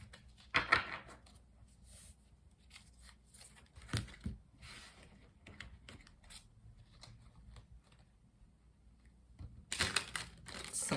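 Tarot cards are shuffled by hand in a quiet room, with a few crisp riffling bursts near the start and again at the end, and light scattered card taps in between.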